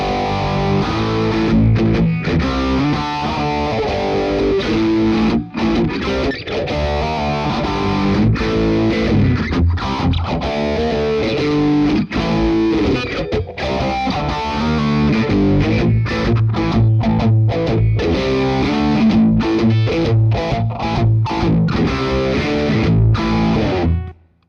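Distorted electric guitar playing a continuous riff through a phaser placed before the distortion, with a slow sweeping phaser swirl, loud and steady throughout with brief gaps between phrases.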